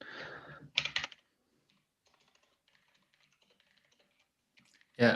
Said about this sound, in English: maybe while you're typing